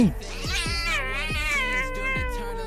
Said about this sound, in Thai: ฉันอาศัยอยู่กับแมวที่ชื่อว่าปุยโย